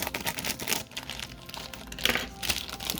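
A Pokemon Battle Styles card pack's foil wrapper is crinkled and torn open up close, giving a steady run of crisp crackling bursts with no talking.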